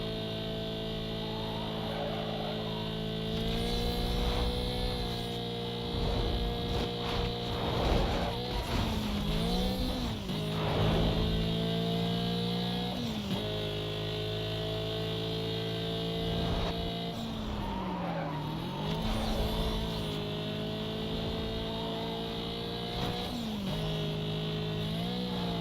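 VW Golf engine in the racing game Need for Speed Most Wanted, a steady droning whine that rises and falls with gear changes and throttle, with occasional tire noise, moderately loud and continuous throughout.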